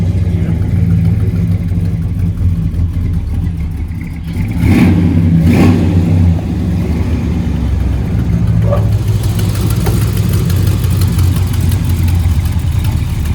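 A 1976 Scarab's cold engine revs repeatedly over a steady idle, loud and close, with rises and falls in pitch and no talk over it.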